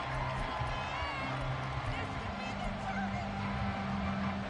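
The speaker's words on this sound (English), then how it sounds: "Crowd getting in it a bit already." A stadium crowd at a football game roars steadily in the background while a commentator talks over it.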